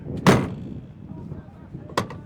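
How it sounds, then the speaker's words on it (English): Door of a Ford Transit Sundowner van opens with a sharp latch clunk, then a second thud about two seconds later, close and loud over a low background rumble. "Door opens."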